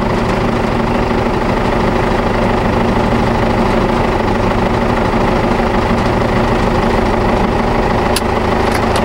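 The brown truck's engine runs loud and close, a constant rough idle with a dense low rumble and mechanical clatter that holds steady throughout.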